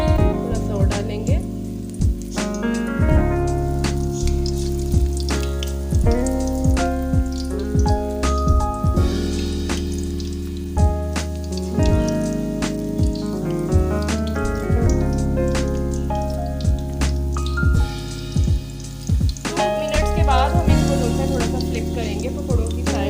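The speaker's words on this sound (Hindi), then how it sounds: "इसको इस तरह से कढ़ाई में डाल देंगे। ऐसे ही हम सारे फ्राई करेंगे।" Pakora batter drops into hot oil in a kadhai and fries with a steady crackling sizzle close by, with scattered pops and clatters throughout.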